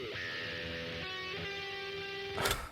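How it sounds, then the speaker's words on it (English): An electric guitar in the game The Dishwasher Vampire Smile is plucked with a pick, sounding a few sustained, ringing notes softly before a brief louder burst at the end. "That's the sound of an electric guitar being plucked with a pick."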